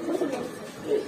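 A pigeon at a bird shop coos softly nearby, a short low two-part call followed by one more coo, with no talking.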